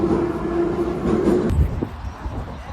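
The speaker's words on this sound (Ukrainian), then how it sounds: "І опять ми в метро." A Kyiv metro train rumbling and squealing underground, a loud steady roar with a high wheel whine that cuts off into a heavy clunk and quieter rumble, close by.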